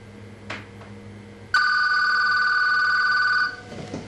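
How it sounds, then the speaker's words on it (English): A home telephone bell rings in one loud, continuous electronic trill lasting about two seconds, alone against a quiet room after a brief rustle. "And the phone just rang."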